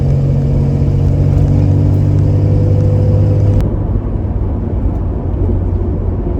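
A 1969 Plymouth Barracuda with a 225 six-cylinder engine drives along, its engine a loud, steady drone with a low hum that drops to rougher road and engine noise partway through; no one speaks.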